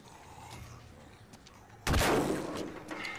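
A single sharp gunshot from a Walking Dead TV episode bursts out loudly after a quiet stretch of faint background sound, followed by a decaying rumble and echo.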